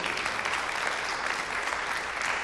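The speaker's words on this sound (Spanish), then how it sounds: "Aplauda bien si va a aplaudir." A church congregation claps steadily in dense applause that fills the room evenly from start to finish, with no single voice standing out.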